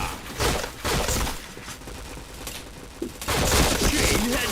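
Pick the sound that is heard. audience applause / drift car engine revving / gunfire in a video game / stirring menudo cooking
gunfire in a video game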